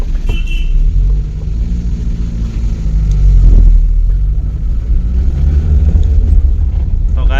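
A motor vehicle just refuelled with petrol runs close by with a low, steady engine rumble, and its revs swell as it pulls away.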